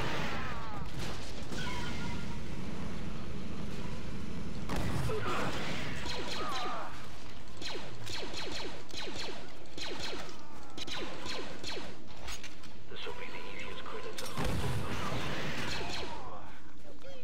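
Blaster gunfire from a Star Wars Battlefront 2 match on Mos Eisley, with repeated sharp bursts and crashing impacts that fill the mix; a voice talks over the action.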